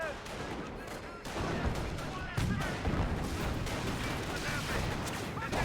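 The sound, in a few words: gunfire and artillery in Company of Heroes video game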